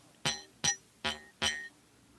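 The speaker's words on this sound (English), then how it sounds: "Otherwise the twanger will hit the frame and it'll sound like this." A jaw harp's twanger strikes its frame four times in an even rhythm, each one a bright, buzzy metallic clink that dies away quickly, close and fairly quiet.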